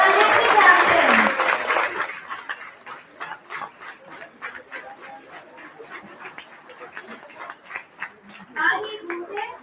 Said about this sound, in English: And for loud round of applause